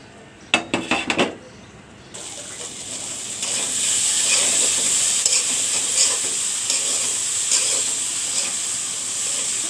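Turmeric, cumin, coriander powder, cinnamon, bay leaf and salt tipped into a hot pan of oil for a Bengali potato ghanti, a few sharp clatters first, then a steady, close, loud sizzle hissing on alone.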